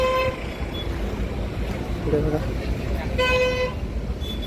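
Vehicles pass on the Amba Ghat mountain road with short car-horn toots near the start and again past the midpoint, over steady traffic rumble while someone speaks briefly.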